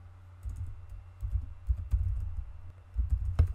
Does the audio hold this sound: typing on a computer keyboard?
yes